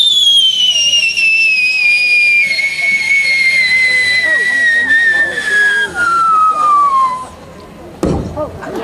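A performer's voice imitates a firework rocket: a long, loud whistle sliding steadily downward, then a short sharp burst like an exploding rocket.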